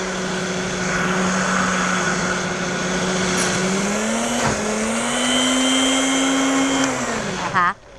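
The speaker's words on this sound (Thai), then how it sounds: "ก็บดปั่นไปพร้อมกัน นะคะ ให้ส่วนผสมนั้นเข้ากันทั้งหมดค่ะ" A kitchen blender grinding a mushroom mixture runs loud and close with a steady whirring drone that shifts pitch as the load changes, then cuts off abruptly at the end.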